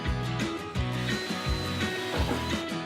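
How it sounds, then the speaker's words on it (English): A power drill bores a hole, working in short repeating bursts, its motor whining and biting at an even pace, fairly quiet and with no talking. "Now I gotta drill the other hole."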